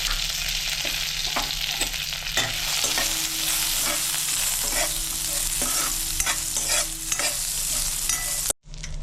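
Peanuts tossed into hot oil with black mustard seeds and curry leaves, frying for vada pav: a loud, steady sizzle with frequent scraping stirs and light clinks of a spoon against the pan, cutting off abruptly near the end.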